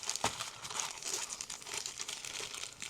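Pokemon Battle Partners booster packs from the Pokemon Center in Osaka, Japan being shuffled by hand, giving close, continuous crinkling and rustling of foil wrappers with a sharper crackle near the start and no talking.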